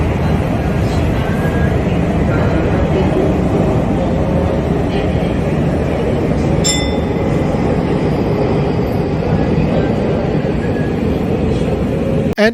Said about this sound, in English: the noise in the train is rather loud